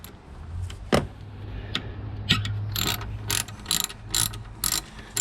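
A ratchet loosens bolts on a Nissan 4.0 engine during a throttle body spacer install, with close, crisp bursts of rapid clicking, then pauses and metallic knocks, and no speech.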